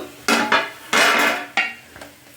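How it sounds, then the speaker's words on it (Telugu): A metal lid is lifted off a pan of onions simmering on low heat for fish curry, giving a few sharp, loud clanks and scrapes with no talking. "మూత తీసి చూస్తున్నాను"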